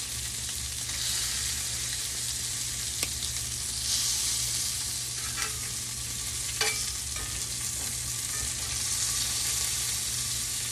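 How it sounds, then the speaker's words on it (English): Shrimp and chicken sear in a cast iron pan, giving a loud, steady sizzle throughout with a few brief scrapes and taps as the pieces are pressed down. "I just want to go in and press a little bit more to get that nice cast iron color"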